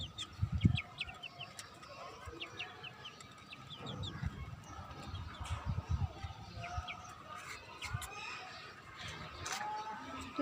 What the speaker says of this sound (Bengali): মুরগিকে খাবার দিলাম।